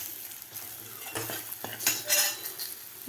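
Asafoetida and turmeric are stirred into hot oil with curry leaves. A soft sizzle runs underneath, and clinks and scrapes of a spoon against the pan rise and fall.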